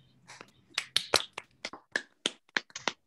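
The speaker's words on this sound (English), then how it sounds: "well-deserved round of applause." Scattered claps and taps from an online audience unmuting their microphones, uneven and sparse bursts at moderate level with no steady rhythm.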